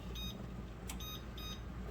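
A kitchen timer beeps in quick repeated pairs of short high tones, faint beneath a steady broadband hiss of kitchen noise.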